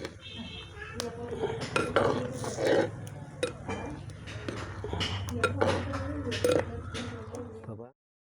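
A spoon scrapes and clinks steadily around a pot of tomato brinjal chutney, a busy run of close metallic knocks over a low rumbling background that stops abruptly at the end.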